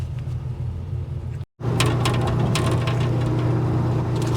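An LS-swapped 1968 Chevy engine idles with a steady low rumble, interrupted by a brief dropout before resuming with added clicks and mechanical rattles.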